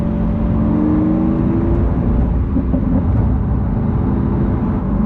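A Lamborghini Aventador S V12 drones steadily on the road under throttle, a loud, continuous engine and exhaust roar from inside the car.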